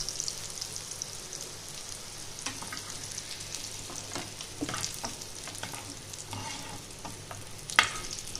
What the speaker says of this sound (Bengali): করলাটা এবার আমার লাল লাল ভাজা হয়ে গেছে